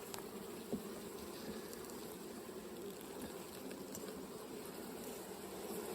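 Honey bees buzz around an open beehive while frames are pulled for honey, giving a faint, steady drone of many insects at a distance with occasional small knocks.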